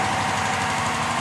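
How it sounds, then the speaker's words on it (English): A Daimler SP250 classic car's engine runs under the open bonnet, a loud, close, steady mechanical drone with a faint knocking rhythm and no voices. "And here's the engine."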